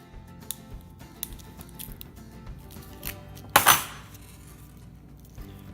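A 12 gauge shotgun round is cut open, with scattered small clicks and taps before one sharp, loud crunching cut near the end, then quiet.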